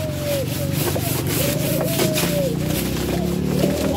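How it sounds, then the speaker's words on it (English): Dry banana tree trash scrubs against a surface on a farm, a steady close rasping rub that continues throughout, with a voice speaking over it. "I get some dry trash from the banana tree, and I use the dry trash to scrub."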